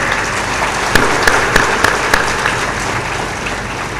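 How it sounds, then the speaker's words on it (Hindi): Audience clapping at a spiritual discourse in a large gathering, a loud, even wash of applause with a few sharper claps standing out early on. "जोर से ताली भी बजा दो"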